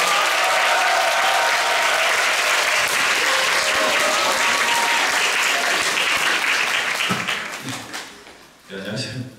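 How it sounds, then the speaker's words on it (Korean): Loud, dense applause from an audience welcoming a guest onto the stage at a book festival talk. It holds steady for several seconds, then thins and fades out as a voice begins speaking. "박수로 맞아주십시오."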